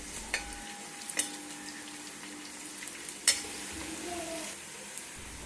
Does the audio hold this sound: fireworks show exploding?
no